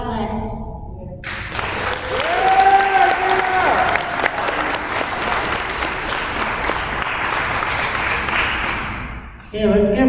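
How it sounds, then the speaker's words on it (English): Sustained audience applause fills a school princess pageant hall for a contestant, dense steady clapping that swells early and holds for several seconds, with a voice speaking over it at the start and again as it fades. "Okay, let's give her a round of applause again."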